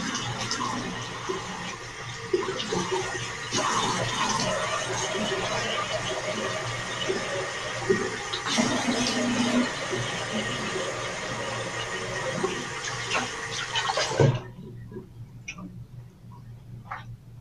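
Tap water runs steadily while a face is rinsed during a skin care routine, a loud, continuous broadband rush that cuts off abruptly near the end, leaving only faint drips and small handling sounds.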